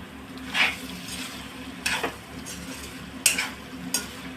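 A spoon stirs food in a pan over a low, steady sizzle. Several distinct scraping strokes are spaced a second or so apart, close by, with no talking.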